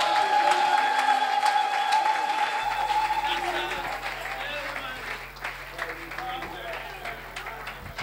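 A church congregation applauds loudly at a worship gathering, a dense sustained wash of clapping with a crowd murmur under it and voices speaking over the top.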